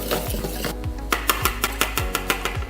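Vanilla cake batter being mixed with a pinch of salt added, a steady low mechanical hum running underneath while regular clicking strikes repeat about every fifth of a second in the second half, close and moderately loud, with no talking.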